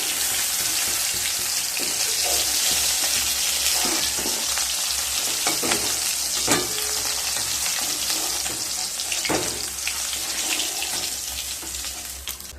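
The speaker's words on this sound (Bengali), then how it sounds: "এবার ওই তেলের মধ্যে কয়েকটা বড়ি ভেজে নেব।" Lentil dumplings (bori) fry in oil left over from frying fish, a continuous close sizzle with scattered pops and stirring scrapes, easing slightly toward the end.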